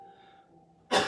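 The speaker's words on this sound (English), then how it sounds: "That coughing is actually a good thing because it's sort of clearing up the phlegm, the junk." A single cough bursts out loud and broad near the end of a quiet yoga session, following a stretch of low, steady background tone.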